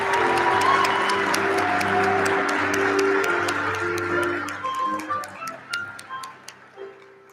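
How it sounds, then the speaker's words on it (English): Warm applause at a college commencement ceremony fills the hall, then breaks apart into a handful of distinct claps, with organ or music tones sustained underneath. "she does deserve a round of applause"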